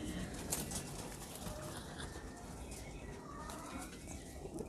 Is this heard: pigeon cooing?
yes